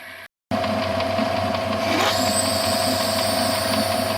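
A metal lathe reams a bushing to final size for a lead screw headstock bearing block, a steady close machine hum and whine starting after a brief cut, with a faint rising squeal of the cutting tool, no talking.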